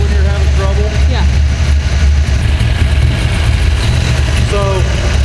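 A Dodge Dart's engine idles steadily and loudly up close, running a little low and rich, with a constant low rumble while a person talks over it.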